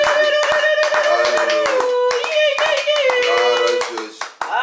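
A church congregation claps together during Sunday worship, dense and steady rhythmic applause over loud singing and music, keeping up for several seconds before thinning at the end.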